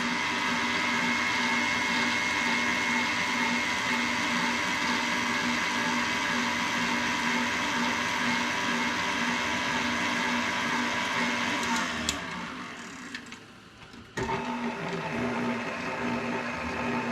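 An electric mixer whirs steadily and loudly through cheesecake bar filling, a constant motor hum with a change in pitch near the end as it slows and briefly cuts out before running again.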